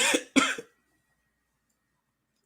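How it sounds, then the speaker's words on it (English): Two quick harsh coughs from one nearby person, back to back, followed by silence and the start of another cough at the very end. "don't know what's up with these cough fits."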